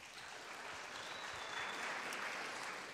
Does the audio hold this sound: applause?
yes